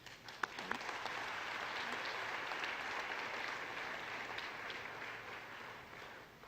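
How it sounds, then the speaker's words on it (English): At a university convocation, an audience claps for graduating students in a broad, even wash of applause with a few sharper claps at the start, fading gently toward the end. "We applaud these students."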